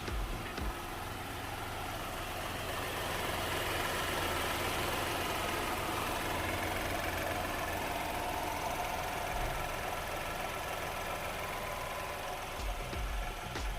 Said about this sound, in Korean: 엔진 소리 한번 듣고 가실게요.